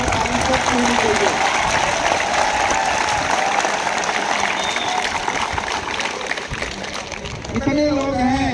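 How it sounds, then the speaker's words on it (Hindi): A crowd at a forest festival applauds loudly for the trees, with dense and steady clapping that fills the whole stretch and swells slightly near the end as a few voices rise over it. "ताली पेड़ों की एक बार जोरदार ताली सब होनी चाहिए।"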